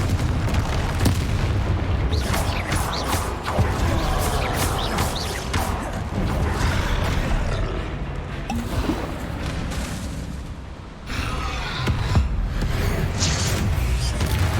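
Repeated Confringo blasting-spell explosions in the game Hogwarts Legacy, a run of loud booms and crashing bursts across a dense, busy battle soundscape, with a short dip in the middle before the blasts resume.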